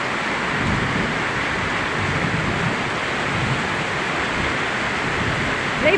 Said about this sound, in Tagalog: Ang lakas ng agos oh.